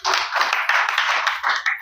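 An audience at a Christian worship gathering in Hyderabad clapping together, a dense, fairly close burst of hand claps that holds steady for about two seconds.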